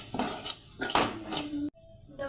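A utensil scrapes and clinks against a pan while chicken is stirred with masala and pepper powder: a few short, close scraping strokes and a brief metallic knock.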